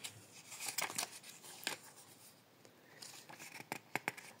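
The Tarot Reflet deck box is opened up close in a series of crisp cardboard scrapes, taps and rustles, busy at first, then a short lull before more sharp handling noises.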